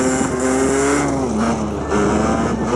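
A moped engine revs steadily and loudly up close, its buzzing pitch rising and dipping slightly while being ridden down stairs, with no voices.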